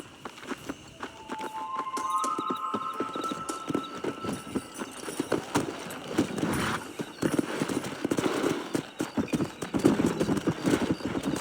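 Horse hooves in Red Dead Redemption clip-clop in a quick, rhythmic gallop close by, with a brief whinny early on and the hoofbeats growing louder and busier toward the end.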